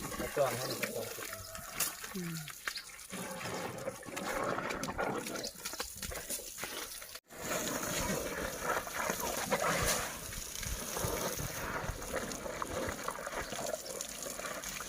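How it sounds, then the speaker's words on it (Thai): Water hisses and splashes steadily from a hose as an elephant is bathed outdoors, a continuous broadband rush lasting throughout with a brief break midway, while voices talk over it. "พ่อเปิดน้ำขึ้นอีกไว้พ่อจะป้าจะฉีดน้ำไออาบน้ำให้แม่ลินลิน"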